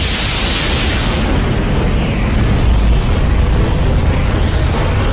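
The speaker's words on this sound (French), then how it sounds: "L'univers se déploie dans une formidable explosion d'énergie et de matière." A Big Bang explosion sound effect roars as a loud, sustained, dense blast of rumbling noise, starting with a bright burst that settles into a steady, powerful boom lasting several seconds.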